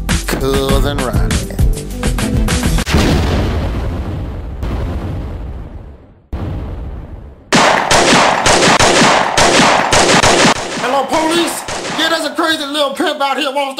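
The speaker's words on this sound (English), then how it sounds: "Pimp out here won't stop shooting at me." Gunfire sound effect of someone shooting, loud rapid bursts of shots and sharp cracks in rough clusters, broken by brief silences and then resuming in dense volleys.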